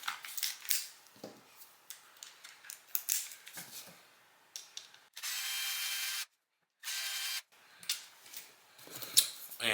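Upper control arm bolts come out of an Axial UTB18 Capra RC crawler chassis, giving irregular close ratcheting clicks and small tool scrapes, with two short bursts of a power driver whirring between quiet gaps.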